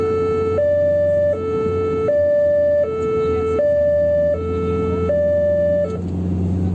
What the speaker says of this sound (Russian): включается вот такой звук сирены.